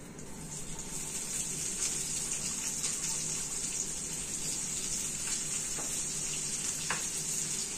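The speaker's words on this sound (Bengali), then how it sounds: "এইবার এর মধ্যে কুচনো পেঁয়াজ দিয়ে দিই" Chopped onions sizzle in hot oil with dried red chillies for a Rani fish curry, a steady hissing fry that holds evenly throughout with a few faint stirring clicks.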